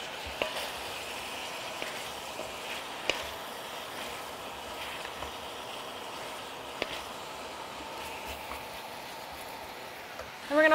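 Vegetables frying in rendered bacon fat for Cajun smoked pork rillettes, giving a steady, moderate sizzle with occasional soft pops and clicks throughout, with no voices.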